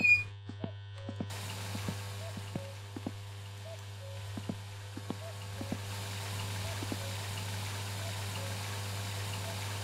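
Water being pumped in the My Summer Car video game, a steady low hum with a regular series of short pulses and faint beeps, playing alone without talk.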